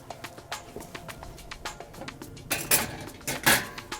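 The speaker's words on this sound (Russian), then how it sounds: "можно чайник на мангал поставить" A metal kettle is set onto a charcoal mangal grill, giving a run of light clinks and taps, then two louder metallic clanks near the end, close by.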